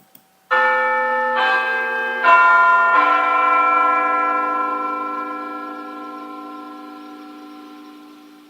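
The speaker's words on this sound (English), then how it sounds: "The bells chime every quarter of each hour, at 1/4 past," Big Ben's bells ring out the quarter-past chime, four resonant strikes in sequence with the last note left to ring and slowly fade.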